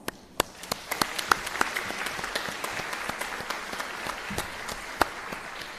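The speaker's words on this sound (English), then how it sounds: "let's put our hands together to give ourselves a big round of applause." Applause from the graduates at a 2021 graduation ceremony: a round of crisp, scattered hand claps that starts sharply, then settles into a steady patter at moderate loudness with no talking.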